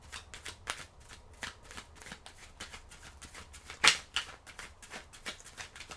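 A deck of oracle cards is shuffled by hand in a rapid series of close, crisp riffling flicks with brief pauses between bursts, and one sharper slap midway.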